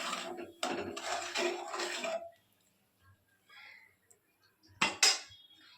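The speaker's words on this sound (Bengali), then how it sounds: "এবার এইগুলো নাড়িয়ে নেবো ভালো করে আমি" Garam masala and pepper powder are stirred in a pan: three short rhythmic bursts of scraping and clattering close up, then near silence and a final sharp metallic clink.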